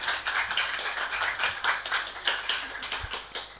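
Applause at a business week closing ceremony in Haringey, a steady patter of many hands clapping with scattered sharper claps, moderately loud throughout.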